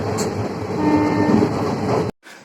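A train on the Rajahmundry to Tirupati route rolls through a station without stopping, heard from onboard as a loud, steady rumble with rattling wheels and a faint horn, ending abruptly in near silence.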